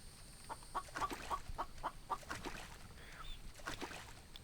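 A chicken clucking in the video game The Infected, a run of short, evenly spaced clucks at moderate volume over a soft ambient background.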